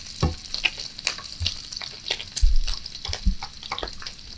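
Bacon frying in a cast iron skillet, a busy close sizzle with frequent pops and occasional low thumps of the pan or utensil, fairly loud and with no talking.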